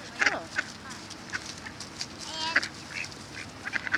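Ducks quack in short scattered bursts while being fed bread outdoors, fairly close but modest in level over a soft background hiss.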